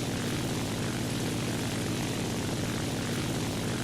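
A propeller airplane engine in a combat flight video game drones continuously, a loud, steady buzzing roar with no voices.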